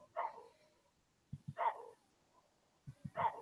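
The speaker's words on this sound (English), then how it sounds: "You know what that is? That's a baboon saying wahoo." A baboon gives a distant wahoo call three times at regular intervals, each a short low grunt followed by a rising barking hoot, somewhat dog-like, with quiet gaps between.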